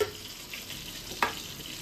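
Pointed gourd (potol) fries gently in a pan on low heat, a soft, steady sizzle close by, with a brief louder burst of spitting oil near the middle.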